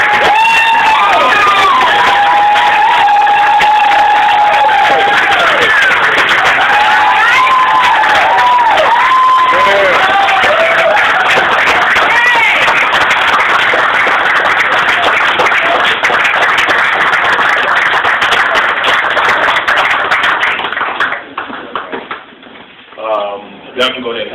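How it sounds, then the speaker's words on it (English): A crowd at a September 2016 UMOJA Woman of the Year honoring event breaks into loud sustained applause and cheering with shouts and whoops, lasting about twenty seconds before thinning out at the end. "Let's give a big hand of applause."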